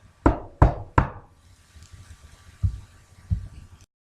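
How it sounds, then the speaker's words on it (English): Three sharp, loud knocks on a wooden door in quick succession, followed by a short lull and two softer, duller thuds; no voices. "He knocked on the door."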